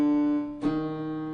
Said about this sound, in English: So a minor second is the shortest interval between two notes